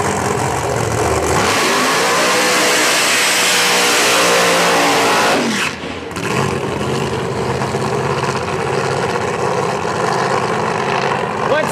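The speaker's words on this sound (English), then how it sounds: "Mike Decker Jr., a.k.a. Big Change, coming around in the Bickle car" A pro modified drag racing car engine revving at Flying H Dragstrip in Odessa, Missouri, a loud rising roar that climbs to a peak, cuts off briefly, then settles into a rough rumbling idle, with an announcer talking over it.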